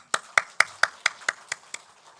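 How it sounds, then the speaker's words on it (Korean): Eight sharp, evenly spaced claps from a church service congregation, crisp and fairly close, in a steady rhythm lasting about two seconds with no talking. "우리 다시 한번 힘찬 박수하겠습니다."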